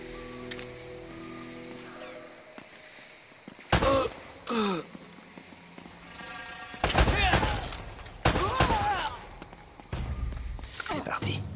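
Bursts of gunfire in the video game Uncharted: Drake's Fortune, several loud close volleys at irregular intervals against a steady background, with brief shuffling sounds between them.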